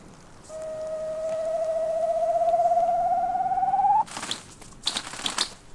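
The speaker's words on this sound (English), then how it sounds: "A male Siberian grouse, taking a last stand against winter and marking his mating ground for next spring." A male Siberian grouse calling on his mating ground in snowy winter forest: a single long, thin whistle that slowly rises in pitch for several seconds, then sharp rustling bursts like wingbeats.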